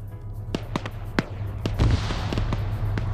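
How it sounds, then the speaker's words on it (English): Video game grenade blasts and scattered sharp pops of gunfire in a busy battle, several cracks over steady background noise, capped by a deeper explosion thump. "And another grenade takes out Nemesis!"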